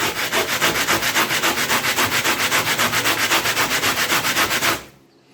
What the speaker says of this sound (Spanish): acá tengo un poco de lija y voy a hacerlo de la siguiente forma